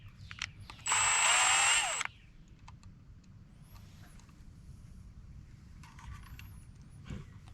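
A drill drives a self-tapping bolt into a Chevy Tahoe to mount an electric trailer brake controller, one loud steady whine of about a second, then quiet with faint clicks.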